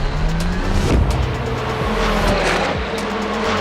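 Race cars roar past at speed during a Le Mans session, loud engines rising and falling through gear changes with brief tire noise, continuous and close with no talk.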